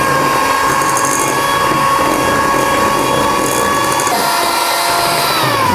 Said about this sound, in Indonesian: Kemudian saya mixer dengan kecepatan sedang